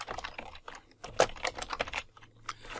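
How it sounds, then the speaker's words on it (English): Fast, irregular typing on a computer keyboard, a burst of close clicks with one firmer key press near the middle, heard alone without talk. "I can now type, and let's hit shift enter"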